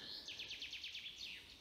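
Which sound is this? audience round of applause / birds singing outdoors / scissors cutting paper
birds singing outdoors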